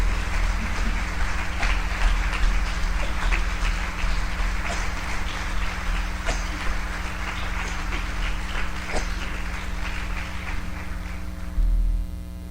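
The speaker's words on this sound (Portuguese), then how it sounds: "Dê uma forte salva de palmas para esse Deus maravilhoso." A church congregation gives a round of applause in praise during a sermon, a steady wash of clapping over a constant low hum from the hall's sound system, fading slightly toward the end.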